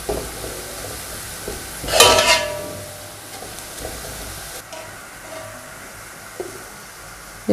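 Onions frying until brown for Sindhi biryani, a soft, steady low sizzle with one brief louder burst of stirring and a few light utensil touches against the pot, no voices.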